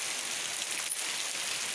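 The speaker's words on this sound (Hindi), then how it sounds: "बारिश ज़्यादा होने लगी" Heavy rain falling steadily outdoors in a village setting, a dense continuous hiss close by, alone with no voices.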